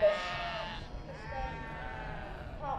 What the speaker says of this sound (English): Oh, that was a cheeky little sheep, that one.